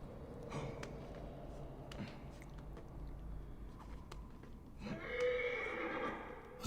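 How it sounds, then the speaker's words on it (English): A horse in the video game Assassin's Creed Origins whinnies loudly and close, preceded by quieter snorts and hoof shuffling in an open desert world. "Do horses neigh for no reason, or is he in trouble?"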